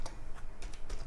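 Fingers type on a computer keyboard at close range, giving a few scattered key clicks over a steady low room hum with no speech.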